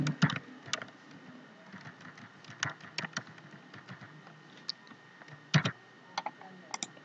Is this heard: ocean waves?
no